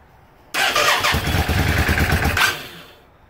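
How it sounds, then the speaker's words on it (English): A motorcycle engine that would not start, primed with starter fluid in the carburetor, suddenly fires and runs loudly and roughly for about two seconds before sputtering down, heard up close with no talking. "See how it picked up just a little bit there? The engine got a little excited."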